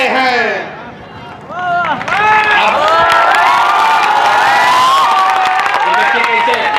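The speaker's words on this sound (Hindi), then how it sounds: "देखिए कैसे सम्राट चौधरी के नाम पर लोग ताली बजा रहा है।" At a political rally in Bankipur, a large outdoor crowd claps and cheers loudly and steadily, with whoops and shouted voices mixed into the roar.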